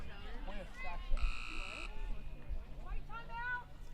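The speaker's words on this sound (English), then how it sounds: "And there is a buzzer that sounds," A single flat, sustained buzzer blares for under a second during a timeout at a girls' prep lacrosse final between Lawrenceville and Oak Knoll, under continuous play-by-play commentary.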